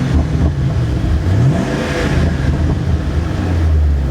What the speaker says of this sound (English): The stock exhaust note from Roush, you know, it's definitely a little bit more throaty than it would be from, you know, just the factory from Ford.